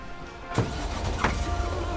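Car in the video game Lake, with a soft engine hum running steadily underneath and two brief louder swells of a vehicle passing close by.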